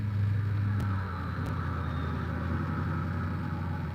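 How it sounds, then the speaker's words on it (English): A big dually pickup truck drives by with a low, rumbling engine drone, loudest at the start and then settling into a steady, slightly quieter hum as it moves on. "Big dually truck just drove by."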